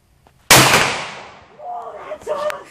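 A single sharp, loud 12 gauge shotgun blast firing a 2¾-inch slug at an outdoor range, its echo decaying over a second before voices begin talking.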